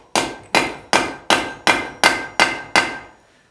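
A hammer strikes hot steel on an anvil while a letter opener blade is forged, giving eight loud, ringing blows at a steady, even pace, each one sharp and close, with no talking.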